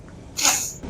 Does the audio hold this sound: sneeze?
yes